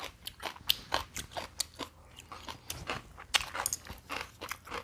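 Someone bites into and chews crisp kimchi up close, in a quick run of wet crunches and crackles.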